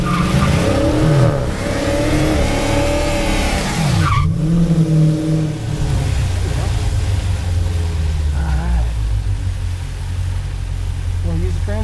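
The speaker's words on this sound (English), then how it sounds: "build up some RPM, and do a good old-fashioned burnout." A Dodge Challenger R/T Scat Pack revs hard and breaks into a burnout at a drag strip, its engine note climbing loud and close before the tires skid and squeal over a sustained roaring drone.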